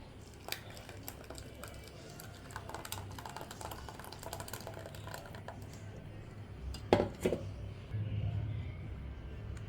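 A spoon stirs mango juice with chia seeds and sago in a container, giving faint irregular clinks and taps against the side, with a louder knock near the end.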